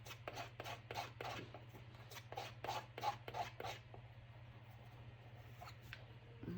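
A palette knife scraping and squishing black acrylic paint together on a palette, heard as a quick run of soft, rhythmic rasping strokes that fade into quieter smearing over a low steady hum.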